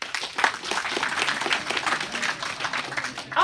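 Students in a government senior secondary school classroom break into applause, a dense patter of many hands clapping steadily at close range for a few seconds, with no voices over it.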